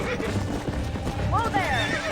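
A wild horse in the Red Dead Redemption western game gives a sharp rising whinny over hoof clatter, while people shout in the background.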